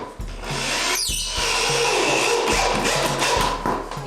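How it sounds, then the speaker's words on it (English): A power drill with an extension whirs in short repeated bursts, driving screws into a hardwood floor during installation, with pauses and light knocks between runs. "So to save my back, I use an extension on my drill."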